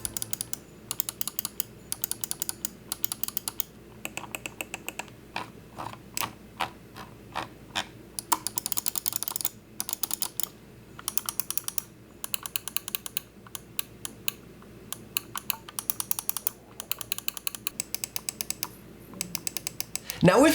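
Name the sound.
Logitech G305 mouse button clicks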